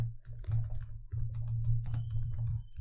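Python code being typed on a computer keyboard, with a quick run of close keystroke clicks in an irregular rhythm over a steady low hum.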